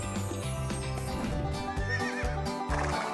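A cartoon horse gives a loud, wavering neigh over busy background music, with a rhythmic clip-clop of hooves running under it.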